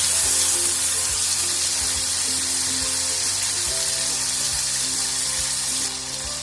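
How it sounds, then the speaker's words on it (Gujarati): Tomatoes cooking in a pan, a loud, continuous sizzle with occasional light scrapes and knocks as they are stirred, steady from start to finish and no talking. "ટમેટાને પકાવશું. વચ્ચે વચ્ચે તેને હલાવતા."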